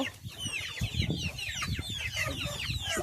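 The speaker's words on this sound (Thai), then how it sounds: "สายพันใหม่นะคะอันนี้มาจากอีสานฟาร์มไก่พันไข่สีขาว" White egg-laying hens of a new breed from a farm in Isan, Thailand, cluck steadily in a busy chorus, with many overlapping calls and soft rustling close by.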